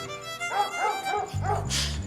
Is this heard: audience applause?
no